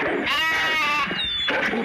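Sheep bleating in the video game The Wolf Online, a wavering, nasal bleat followed by a brief higher squeal, then another bleat, close and loud.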